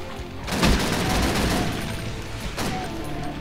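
Heavy weapon fire in Sigil, a Doom episode run in GZDoom, booms in a dense, rumbling burst, followed by a second blast a moment later, loud and close.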